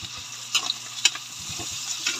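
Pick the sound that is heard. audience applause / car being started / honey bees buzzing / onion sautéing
onion sautéing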